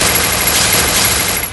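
Rapid automatic gunfire from a shooting video game, a dense loud burst of overlapping shots lasting under two seconds with no talking.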